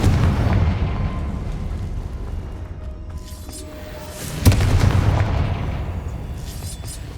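The Confringo fire spell explodes in Hogwarts Legacy inside a tomb, a deep rumbling boom that swells midway over a low ongoing roar and then slowly fades.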